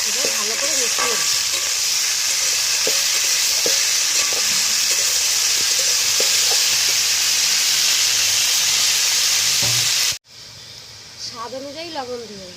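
Khero posto mixture is stirred in a frying pan, with a continuous close sizzle and hiss and scraping strokes of the spoon. The sizzle cuts off near the end and a voice speaks briefly.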